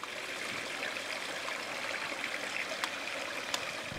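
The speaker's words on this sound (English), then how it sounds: "the ancient rocks with their ponds and trickling rivulets" Water trickles through small rivulets among rocks and ponds in a garden, a soft, continuous babbling that sounds distant and gentle, with a couple of faint clicks.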